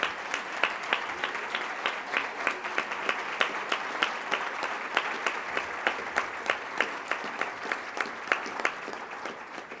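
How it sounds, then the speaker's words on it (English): Steady applause from a large convention audience fills the space, with individual claps standing out close by throughout. "Please give them a round of applause."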